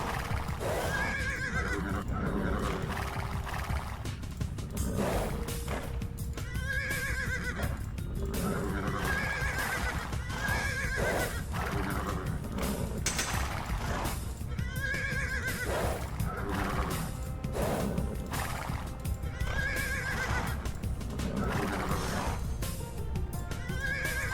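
Horses neigh and whinny again and again in a video game battle set around Temujin in 1185, with horse archers in play. The calls come close and loud at a fairly regular pace over a dense bed of game noise and hoof clatter.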